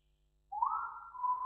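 A single drawn-out whistle sounds in the horror video game Lazaret, starting abruptly and holding a steady, slightly wavering tone at moderate distance with no talk over it.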